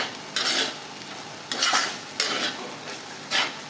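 Barnyard millet (varai) roasting dry in a pan is stirred in four separate scraping strokes, each a short gritty rasp of spoon on metal with quiet gaps between, close and clear.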